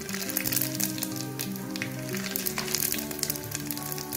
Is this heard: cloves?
yes